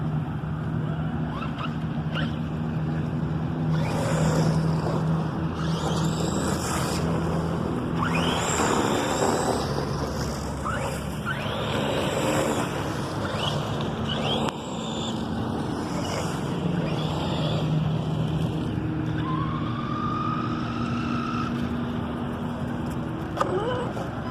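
A Redcat Shredder RC truck drives through water, its electric motor whining continuously over splashing and churning water for over twenty seconds, with occasional faint voices in the background.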